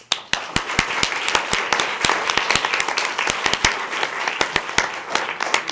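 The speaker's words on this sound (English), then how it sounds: "Let's give her a round of applause." Audience applause at a school board meeting, steady crowd clapping with sharp individual claps standing out, sustained throughout at moderate loudness.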